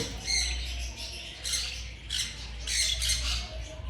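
Pet finches, a green pair, in a pet shop give repeated shrill chirps and squawks close by, in short bursts over a low background hum, with no talking.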